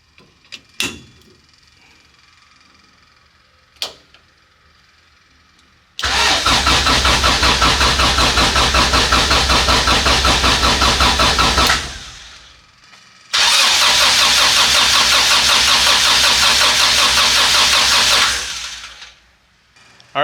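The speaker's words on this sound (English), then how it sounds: "I was cranking over the engine a whole bunch of times to make sure I had oil pressure." A car engine with a high-compression LS/VTEC swap cranks over on the starter in two long bursts of about six seconds each, a loud rhythmic churning with a short pause between, after quiet clicks at the start.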